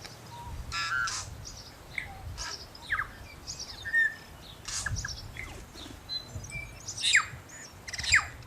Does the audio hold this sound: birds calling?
yes